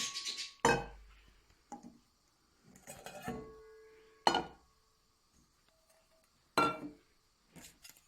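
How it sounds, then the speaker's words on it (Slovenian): Small bowls are set down one by one around a table for a homemade board game, giving sharp ceramic clinks and taps at irregular intervals, close and clear against an otherwise quiet room. "Bomo namestili skledice okoli."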